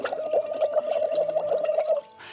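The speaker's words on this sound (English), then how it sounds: "blow through the straw into a bowl of water." Someone blows through a straw into a bowl of water, making a continuous close bubbling gurgle for about two seconds before it stops.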